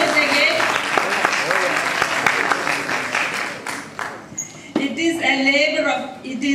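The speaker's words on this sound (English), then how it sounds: "please give a round of applause" Applause at an Onam community gathering of a Kerala association in Connecticut, a dense wash of clapping from a crowd that fades out, followed by a voice speaking.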